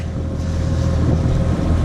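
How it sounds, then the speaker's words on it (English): Steady wind roars and buffets the microphone outdoors on Weiss Lake in North Alabama, a constant low rumble with no talking. "it's a windy day today. I'm telling you, it's real windy."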